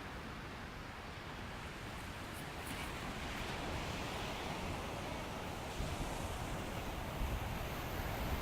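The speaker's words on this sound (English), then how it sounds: "I'm at Venice Beach here. Let's take a look at the waves here." Ocean surf at Venice Beach, California, a steady broad wash of breaking waves with wind rushing across the microphone, continuous and fairly loud with slight swells toward the end, no voices.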